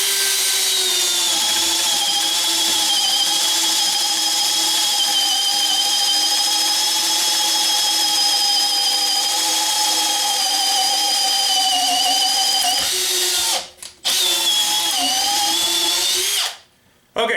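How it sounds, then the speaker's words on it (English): A Makita XPH07 brushless 18V hammer drill on speed setting 1 bores a hole through a wooden post, with a loud, steady motor whine held for about thirteen seconds, then a brief stop, a short restart and a final cutoff. "We'll go ahead and poke a hole through here."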